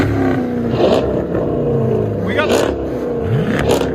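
A Chrysler 300C with a 5.7L HEMI V8 and aftermarket exhaust revs hard in a few loud bursts close by, under excited voices talking.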